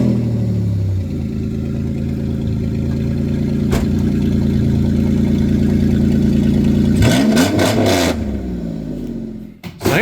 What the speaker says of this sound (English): We're actually going to start this thing up for the first time with the exhaust cut out.